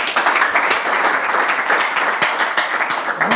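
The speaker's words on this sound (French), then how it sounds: "Est-ce qu'on peut déjà la motiver avec des applaudissements nourris?" A school-contest audience gives a contestant loud, sustained applause, dense continuous clapping from a crowd, close and steady throughout.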